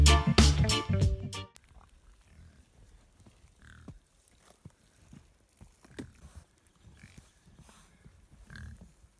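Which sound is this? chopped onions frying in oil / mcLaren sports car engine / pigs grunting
pigs grunting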